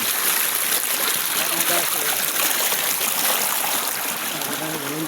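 Flowing water of the Laya River in Talisay City, Cebu, a constant close broadband rush with trickling detail, loud and steady throughout, with a voice speaking faintly underneath.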